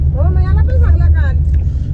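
Passengers ride in the back seat of a tempo on the way to a Mahashivratri fair, with a continuous deep engine and road rumble under people talking.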